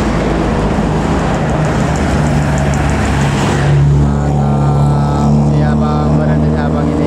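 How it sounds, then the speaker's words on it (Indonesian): A TAM intercity AKDP bus pulls away from Pekanbaru toward Dumai, its heavy diesel engine droning loud and close with a steady low rumble that shifts pitch partway through as it moves off. "Keberangkatan unit bus TAM, bus AKDP dari Pekanbaru menuju lintas"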